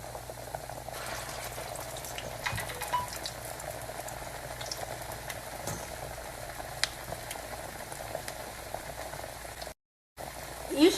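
Salmon patties fry in a pan with a steady, bubbling sizzle that runs throughout at moderate level, a brief gap near the end.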